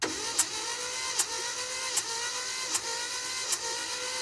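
Engine cranking on a car during a cylinder compression test, five evenly spaced cranking pulses under a steady starter whine, close and fairly loud with no ignition.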